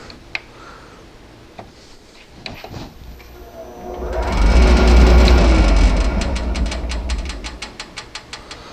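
An electric motor driven by a VFD spins up with a rising tonal whine and rumble that swells loud near the middle and then fades, with clicks and ticks before and after.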